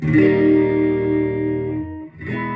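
A clean electric guitar chord on a Stratocaster's neck pickup, with no reverb, rings out and sustains, slowly decaying, then a new strum starts just before the end.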